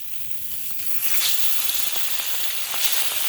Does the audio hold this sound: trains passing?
no